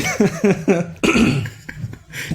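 Three quick, harsh coughs close up, then a longer rasping cough and throat-clearing that trails off into quieter breaths.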